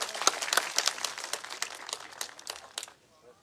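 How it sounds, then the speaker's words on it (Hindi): A crowd at a village gathering gives a burst of rapid, crackling applause to welcome a guest. It is moderately loud and fades out within about three seconds. "जोरदार तालियों के साथ स्वागत।"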